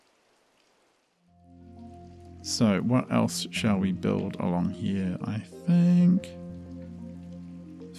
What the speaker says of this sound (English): I love the sound of that rain.